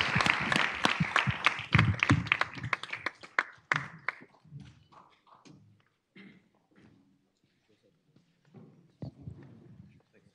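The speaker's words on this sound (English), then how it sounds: "Let's get a round of applause." A smallish round of clapping from a conference audience for panelists at a Bitcoin expo, brisk at first and then thinning into scattered claps, with a voice speaking over the later part.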